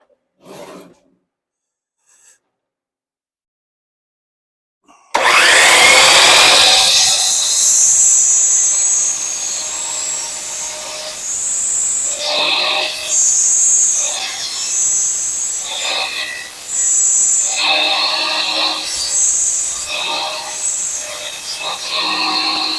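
A power saw cutting through a wooden board starts abruptly after a few quiet seconds, then runs as a loud, harsh buzz that surges and eases in repeated strokes close to the listener.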